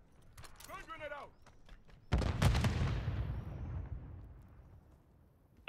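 A loud grenade explosion in the Call of Duty game bursts in after a stretch of combat chatter, then rumbles and decays slowly over several seconds. Voices come before the blast.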